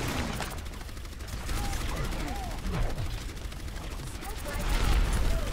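Orisa's rapid-fire gun in the game Overwatch: a continuous stream of shots amid a dense battle mix of other gunfire and effects, with a voice talking over it.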